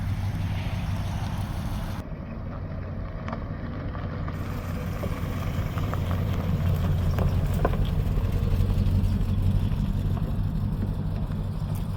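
A 1964 Dodge, an old neglected field-find car, drives past outdoors with a low rumbling engine and road noise that swells gradually, heard without talk.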